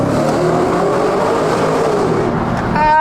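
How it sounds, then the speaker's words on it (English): A Ford Raptor R pickup's engine revs hard inside a tunnel, a loud, continuous roar rising in pitch toward the end, with the sound reverberating off the enclosing walls. "let's see what a Raptor R can do in our little tunnel here."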